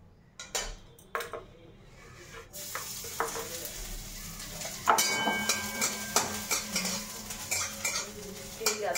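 Leafy greens cook in a pan with a low sizzle, while metal utensils clink and scrape against the cookware in scattered bursts close by.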